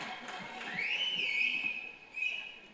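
A single person whistles at a film audio launch event, a clear rising then sustained shrill tone lasting about a second and a half, followed by a short second burst, over faint crowd murmur.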